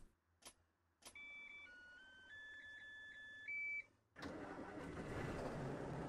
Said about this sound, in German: Wenn wir schon mal unseren Motor anmachen.